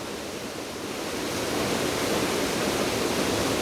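Creek water pours over a broad flat rock slide, a steady full roar of rushing water that swells slightly and stays constant, with no voices.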